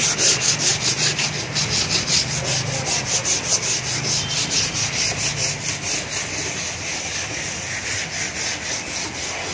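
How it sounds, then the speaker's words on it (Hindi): Raw wood on a newly made bed frame is sanded in rapid, steady back-and-forth strokes, the rough scraping loud and close, pulsing rhythmically at a fast pace without any speech. "अभी जस्ट घिसाई हो रहा है इसका"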